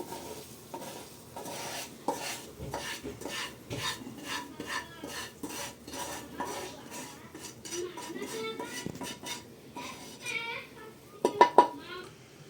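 Toasted semolina is strained out of animal ghee in a pot, with metal utensils scraping and clinking against the pan in an irregular rhythm, faint sizzling, and a few sharp clanks near the end, while someone talks quietly.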